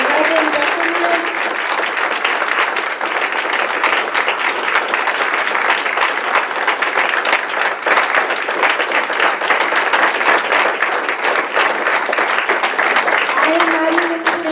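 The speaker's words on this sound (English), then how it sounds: "I want you guys to give them a big round of applause" Loud, sustained applause from a crowd at a regional community meeting about a landfill, dense clapping close by that continues evenly for well over ten seconds with a brief tonal sound near the start and end.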